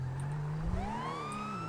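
A police car siren in the FiveM video game wails with a rising electronic tone above a steady low engine hum, continuous and fairly faint.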